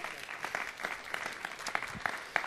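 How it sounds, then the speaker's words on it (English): Audience at a city council meeting applauds a championship-winning Nevada Science Bowl team, with steady moderate clapping and scattered sharper claps throughout. "Give them a round of applause."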